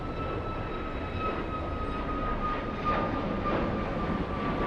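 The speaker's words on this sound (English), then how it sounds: "Go for the United Airlines 737 on the roll." A United Airlines Boeing 737 rolls down runway 25R on its takeoff run, giving a steady, broad engine roar with a whining tone. The sound is continuous and moderately loud, swelling slightly toward the end, with no talk over it.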